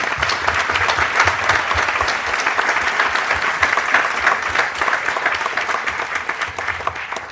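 Audience applause at a château celebration, a dense, steady clapping from a crowd that carries on evenly for several seconds and fades slightly at the end.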